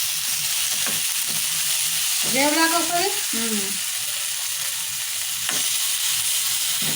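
Oil sizzles in a pan on a stove while village-style fish curry is cooked. The steady, close frying hiss runs throughout, and a voice speaks briefly partway through.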